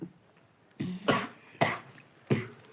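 Three or four separate coughs, fairly close and fairly loud, with short quiet pauses between them.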